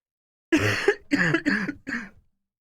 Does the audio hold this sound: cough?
yes